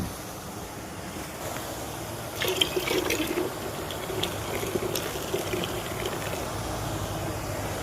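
Water is poured into a tub to mix shrimp feed at a pond, a steady close splashing and gurgling that swells midway and continues with outdoor background noise.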